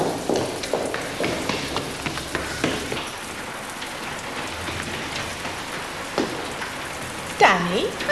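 Steady rain pours down on a wet school day, a dense hiss running the length of the clip with brief louder splashes and a passing tonal sweep near the end; voices are faintly present beneath it.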